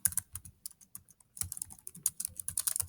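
Typing on a computer keyboard, brisk clusters of close key clicks with short pauses between bursts, alone without voices.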